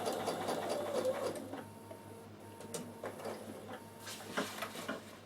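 Bernina sewing machine stitching a trouser pocket: a steady mechanical whir for about a second and a half, then softer intermittent stitching and clicks from the reverse stitch, all alone at close range.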